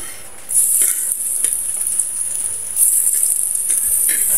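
Onion and garlic sautéing in a hot pan in a home kitchen: a steady, bright sizzle that jumps louder at about half a second and swells again near the three-second mark, with no talking.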